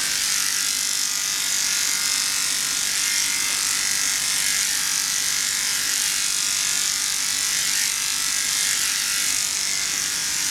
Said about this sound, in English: I like to go over all of my clipper work a couple of times